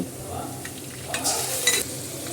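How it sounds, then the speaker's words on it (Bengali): Onions fry in a pan until lightly browned for a Bengali rui fish kalia. A soft, quiet sizzle runs throughout, with a few light clinks from a stirring spoon against the pan. "পেঁয়াজটা আমি একটু ব্রাউন করে ভেজে নেব।"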